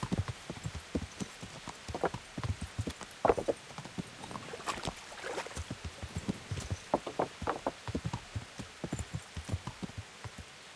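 Horse hooves clip-clop at a steady walking rhythm in the medieval game Kingdom Come: Deliverance, close and clear at night, with a faint rain-like patter underneath and almost no talk.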